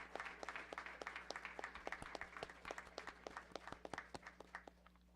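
An audience at a school board meeting giving a round of applause, a run of sharp, distinct claps from a modest group, fairly faint and steady throughout.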